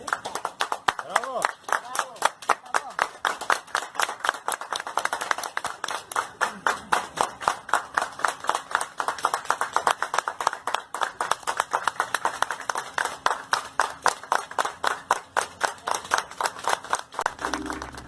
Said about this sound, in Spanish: ahí le reciben con aplausos